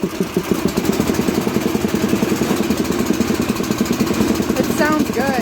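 Chevy square body truck engine running after its carburetor was cleaned, a loud close idle with a rapid uneven chugging pulse, a brief voice near the end.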